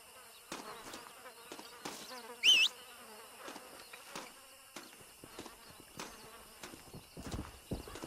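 Horse hooves clip-clop in the video game Red Dead Redemption on Xbox 360, a steady run of close, crisp knocks with an insect-like buzz behind them and a short loud whinny partway through.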